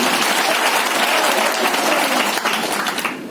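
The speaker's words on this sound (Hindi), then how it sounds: "आप एक बार अपने लिए ताली बजा के जोरदार करें।" Loud, dense audience applause, many hands clapping steadily together before it begins to taper off at the very end.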